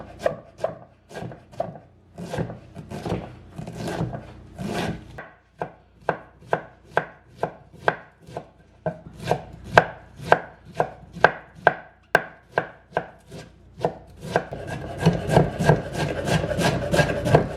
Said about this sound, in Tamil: இதில் நான் 225 கிராம் கோவா வந்து நல்ல மெல்லிஸாக வெட்டி எடுக்க போகிறேன்